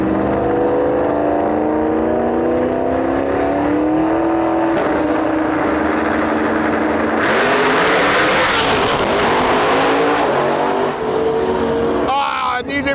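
A drag racing car makes its run down the track, heard as a loud sustained engine roar that rises in pitch and swells before fading away, with an announcer talking over it throughout.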